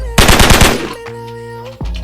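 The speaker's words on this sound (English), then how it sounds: "Gunshot. Gunshot." Rapid gunshot sound effect: a quick burst of about half a dozen sharp shots in fast succession, loud and close, followed by a lingering electronic tone and a final thump.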